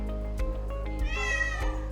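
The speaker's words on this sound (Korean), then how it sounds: "이 영화관의 또 다른 주인공, 바로 고양이" A cat meows inside a small one-screen cinema in Daegu, giving a couple of short, close mews followed by a longer, drawn-out call over a low background hum.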